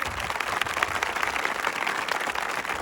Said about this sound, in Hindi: जोरदार ताली एक बार फिर से।